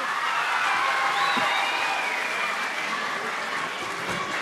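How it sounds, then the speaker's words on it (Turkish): Sustained applause from a crowd at a quiz-show event, steady and dense throughout with faint voices and cheers mixed in. "arkadaşlarımızı bir kez daha alkışlayalım"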